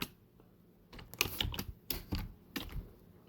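Keys clatter on a computer keyboard in a few quick clusters of taps with short pauses between them, close and quiet in an otherwise still room.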